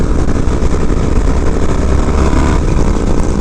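A 1992 Harley-Davidson FXR motorcycle with Biltwell Murdoch risers, riding along with a steady, loud, rumbling engine drone that holds constant throughout, close and without talk.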